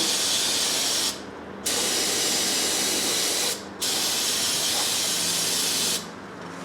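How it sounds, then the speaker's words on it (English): Three loud bursts of aerosol brake cleaner hiss out close by, sprayed around a leaking upper radiator hose on a 2010 Chevy Silverado, with short pauses between them and the longest burst first. "I'm just going to spray down in here where the upper hose is"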